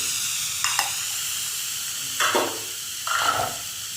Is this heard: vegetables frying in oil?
yes